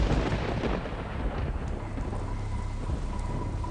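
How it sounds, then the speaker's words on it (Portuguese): Heavy rain pours steadily with a deep rolling thunder rumble underneath, a dense, loud storm with no voices. "Até mesmo a chuva."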